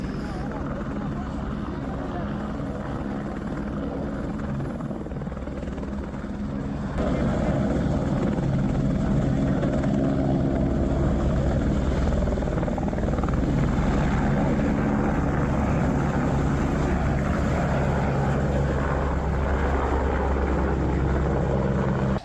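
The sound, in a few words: helicopter landing and taking off at Kedarnath helipad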